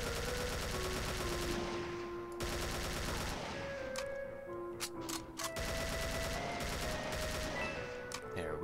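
Gunfire in The Golden Souls sounds as rapid, continuous shot bursts over steady game music, with a few sharper individual cracks in the middle.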